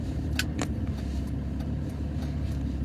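A car gives off a steady, fairly loud rumble with a couple of brief clicks near the start, and no one talks.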